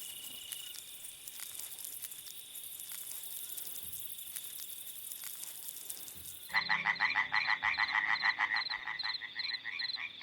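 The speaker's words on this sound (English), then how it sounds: "By the pond, tree frogs begin to croak." Tree frogs croak in a loud, rapid rhythmic chorus by a garden pond at night, rising suddenly over a steady bed of insect buzzing and continuing densely to the end.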